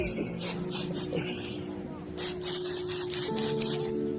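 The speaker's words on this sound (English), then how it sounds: "If you come over here, I'm gonna spray you right now." Water spraying in the video game Starfield: bursts of hissing spray come and go over a steady low game hum, with a faint sharp click at the very end.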